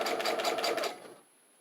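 Sewing machine stitching through a junk journal's pages, a rapid run of needle strokes for just under a second before stopping, followed by quiet.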